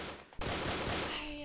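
Rapid automatic gunfire bursts out in a Brickforce first-person shooter match. It is a short, dense volley after a brief lull, fairly loud within the game mix.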